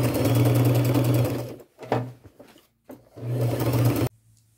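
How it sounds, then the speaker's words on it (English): A sewing machine stitches cargo jeans in three loud bursts, stopping briefly between runs and falling quiet at the end. "Now I'm going to go to my machine and just make a stitch close to the bottom on both sides."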